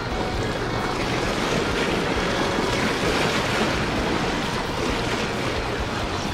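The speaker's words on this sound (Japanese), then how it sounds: "これ波が来るとね、波の音を拾っちゃって僕の声を拾わなくなるんですよ。" Waves washing against the shore of the Old Edo River during a rainy-day sea bass fishing outing, a steady, dense rush of water and wind noise filling the whole stretch with no voices.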